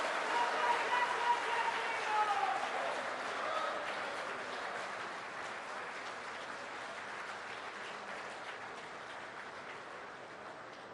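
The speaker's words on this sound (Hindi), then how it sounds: "करतल ध्वनि तालियां बजाकर स्वागत करिए इस ऐतिहासिक पल का।" Audience applause at a BJP auditorium inauguration in Delhi, a broad wash of clapping that swells early then slowly fades, with a voice audible over it near the start.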